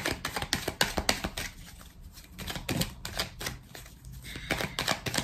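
Tarot cards being shuffled and drawn by hand, a run of quick, close papery flicks and soft slaps in uneven bursts with brief pauses.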